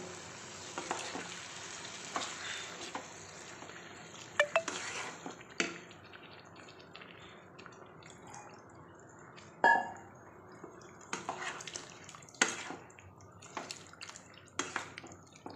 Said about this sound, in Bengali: এবার আমি জল দিয়ে দেব একটু জল পরিমাণ মতনই দেবো যাতে সবজিগুলো একটু সেদ্ধ হয়ে যায়